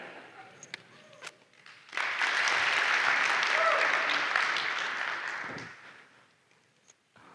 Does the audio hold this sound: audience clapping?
yes